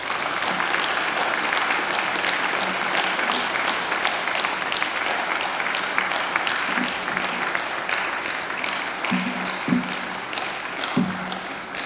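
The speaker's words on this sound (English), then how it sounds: "now I invite you to give them a mighty round of applause" A graduation audience applauds continuously, dense clapping filling the hall for the whole stretch, with a few heavier thumps and faint crowd voices mixed in.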